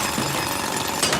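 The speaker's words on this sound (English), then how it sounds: "you can go ahead and use the bot to drill." A robot drills in the Splatoon Raiders video game, giving a dense, loud, continuous rattling hammer-drill roar that fills the short clip without pause.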